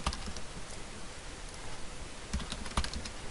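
A password is typed on a computer keyboard, quick irregular key clicks close by with a few sharper taps near the end, no talk.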